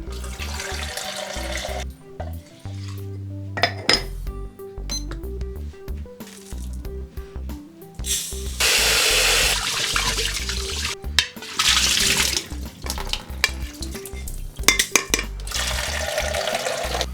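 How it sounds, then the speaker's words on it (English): Water splashes and pours in bursts into a small 100-yen-shop rice cooker mug, with clinks and sink-like running sounds, close by and fairly loud. "just gotta put some water in there"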